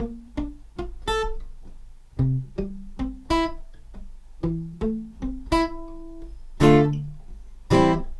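An acoustic guitar is fingerpicked note by note in a steady, unhurried pattern, each plucked string ringing clearly up close, with no voices.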